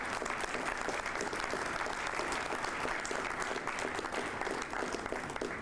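A room at a City of Albuquerque news conference breaks into a round of applause, a steady wash of many hands clapping at moderate distance that holds evenly throughout without any voices on top.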